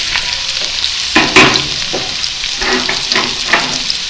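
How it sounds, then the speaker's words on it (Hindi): Onions frying in hot oil in a kadai, a steady loud sizzle with scraping stirs and brief bursts of crackle throughout, no voices. "प्याज को हमने गोल्डन ब्राउन कर लेना है"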